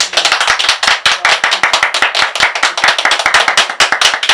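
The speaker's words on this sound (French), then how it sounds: "Applaudissez" Crowd at a political party tribute ceremony in Yopougon clapping in unison, a rapid, rhythmic burst of sharp, close claps with no talking.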